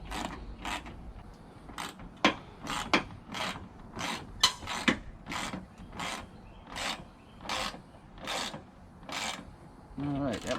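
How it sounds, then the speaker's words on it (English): A bolt on a car headlight assembly is tightened with a ratchet, giving repeated rasping clicks in short bursts at a steady rhythm, close and fairly loud, with no talk over it. "We'll tighten up this bottom bolt here."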